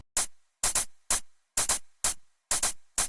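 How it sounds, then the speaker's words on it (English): An electronic hi-hat pattern plays alone in a simple repetitive rhythm, crisp bright hits with some doubled strokes, steady and moderately loud. "A hi-hat sound."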